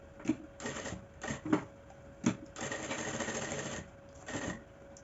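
Sewing machine stitching a seam along the edge of a small fabric baguette bag, running in several short bursts of whirring with brief pauses and sharp clicks between them, with one longer steady run in the middle.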